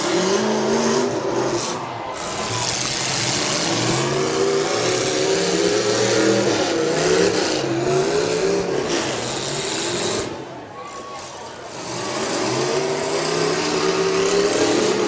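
Demolition derby trucks rev their engines on a county fair course, a loud, steady roar that swells and dips with brief drops in volume, under a faint commentator voice.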